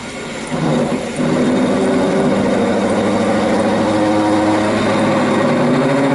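Steady mechanical whir of a lathe boring metal, with a low motor hum and a constant high-pitched metallic tone throughout.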